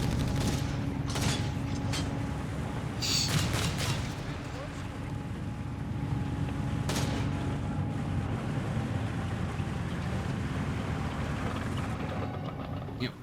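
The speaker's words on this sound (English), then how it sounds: "they're getting sprayed with heavy flak fire from the Wirbelwind in return" Heavy flak fire from a Wirbelwind anti-aircraft tank in Company of Heroes 3 rattles in rapid distant bursts, mixed with battle rumble and other effects while a commentator talks over it.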